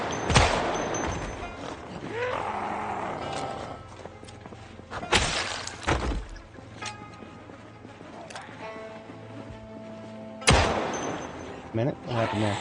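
Gunfire in the zombie survival game Project Zomboid, with shotgun and M9 pistol ammunition in use: several loud, sharp shots are spread irregularly over the span, with quieter game noises and footstep-like sounds between them.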